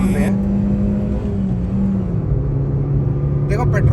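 A Maruti Swift running on CNG pulls hard, its engine note climbing steadily, dipping at a gear change, then climbing again under continuous nearby talk.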